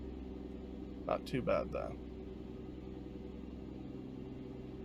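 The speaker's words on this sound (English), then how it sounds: "roll down this right window so y'all can hear the engine a little bit" A truck engine in American Truck Simulator drones at a low, steady idle-like rumble throughout, with someone briefly speaking over it.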